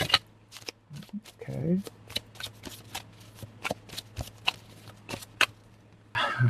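Tarot cards being shuffled by hand at close range, a steady run of quick riffling flicks over several seconds, with a brief spoken word at the start.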